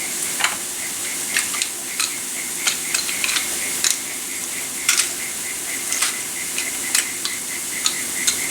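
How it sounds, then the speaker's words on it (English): Sweet potato leaves sautéing with garlic in a pan: a soft, steady sizzle broken by sharp, irregular clicks and scrapes of a utensil stirring against the pan, close by, with no talking. "now just going to saute these a little bit, and we're going to maybe put another clove of garlic in there"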